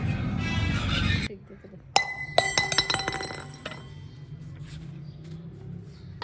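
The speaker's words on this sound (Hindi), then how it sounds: "ये गिलास किसने फेंका है?" A drinking glass is thrown and lands with a sharp clink and several ringing pings indoors in a home, following a stretch of steady noise, with faint background sounds and talk nearby.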